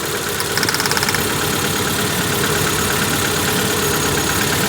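A Proton Wira engine with a misfire runs at idle, loud and close, its steady drone broken by an uneven, stumbling pulse throughout, with no voices.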